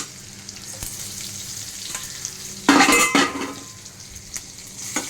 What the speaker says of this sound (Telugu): ఎండుమిర్చి, కరివేపాకు, జీలకర్ర, మెంతులు కొంచెం వేసుకుంటాం పోపులో